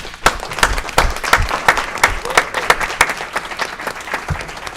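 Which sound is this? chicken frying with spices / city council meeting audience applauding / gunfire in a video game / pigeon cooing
city council meeting audience applauding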